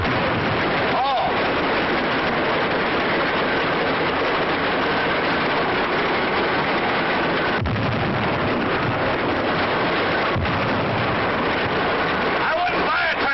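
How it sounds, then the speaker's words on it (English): Loud, rough, continuous engine roar of a noisy tractor in a cartoon, steady throughout with a few sharp bangs and backfire-like bursts, close and dominant, with voices briefly heard. "I wouldn't buy a tractor that made so much noise."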